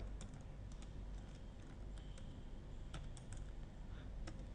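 Quiet, rapid typing on a computer keyboard while entering Java code, with light irregular key clicks clustered in short bursts over a faint steady background, no talking.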